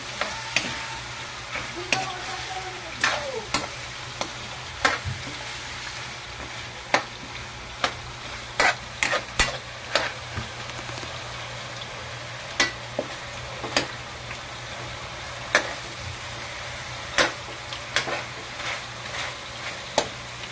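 Chicken cooking in oyster sauce in a pan is stirred, with steady sizzling and repeated sharp spatula clicks and scrapes at an uneven rhythm throughout, close and moderately loud.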